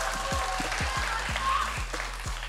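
An audience at an LCK esports player interview applauds, a broad wash of clapping from the crowd held under a low, rhythmic hum of venue sound.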